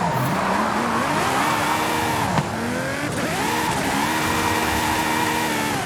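Car drifting uphill toward a volcano in a driving video game, with its engine revving and rising and falling through gear changes in a steady loud drone and faint tire squeal, with no talk.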